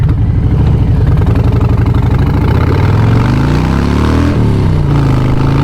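A 2019 Harley-Davidson Street Bob V-twin cruiser rumbles loud and close with a deep, lumpy idle that lifts slightly in pitch toward the end, steady throughout with no speech.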